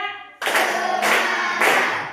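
A group of people in a classroom clap in unison, three sharp bursts spaced evenly about half a second apart, loud and close, each trailing off briefly before the next.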